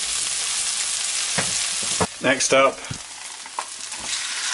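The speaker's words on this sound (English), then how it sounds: "And they go, nice sizzle." Vegetables and garlic sizzling in hot oil, a steady crackling hiss, with a brief spoken phrase and some stirring clatter partway through.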